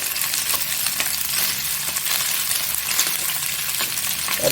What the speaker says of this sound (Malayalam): വെളിച്ചെണ്ണ ചൂടായിട്ടുണ്ട് അപ്പോൾ ഇതിലേക്ക് നമ്മൾ പിഴിഞ്ഞ് വെച്ചിരിക്കുന്ന സോയാബീൻ ഇട്ട് കൊടുക്കാം